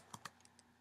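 Keys clacking on a computer keyboard while typing into a running Python program: two sharper strokes followed by two lighter taps, close and quiet, with no voices.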